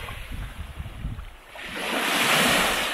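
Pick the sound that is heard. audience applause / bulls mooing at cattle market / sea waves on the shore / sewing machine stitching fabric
sea waves on the shore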